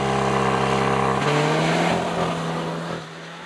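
A 300 hp 2021 Cupra Leon hot hatch engine holds a loud, steady idle-like drone, then revs up with rising pitch and settles into a sustained high note, fading slightly at the end.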